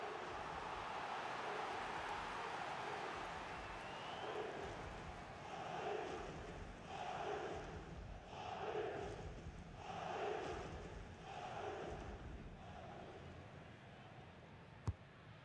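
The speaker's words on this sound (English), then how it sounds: "just listen to the crowd" Stadium crowd roaring at a Barcelona versus Real Madrid La Liga match as Real Madrid prepare a corner, a distant, rolling swell of chanting that rises and falls in rhythmic waves.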